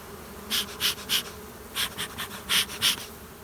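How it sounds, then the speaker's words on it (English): Honey bees in a hive box buzz in a steady low drone, with a series of louder, close buzzing bursts from individual bees passing near. "There's a lot of bees in here to contend with."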